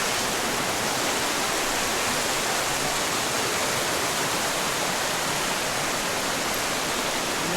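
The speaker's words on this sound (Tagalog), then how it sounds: "Sapa." Creek water rushes loudly and constantly along a stream in Ilocos Norte, a dense unbroken roar of flowing water with no pauses and no voices.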